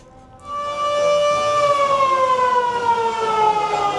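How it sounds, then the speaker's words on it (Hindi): A passenger ship's siren at Dhaka's Sadarghat sounds one long, loud, sustained blast, its tone sliding slowly downward as it holds. "अपना सायरन है, इसका सायरन है, उनका है।"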